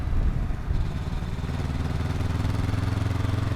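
Honda NX500 motorcycle on a test ride, a steady low throbbing engine drone heard up close from the rider's position, loud and continuous with no talk.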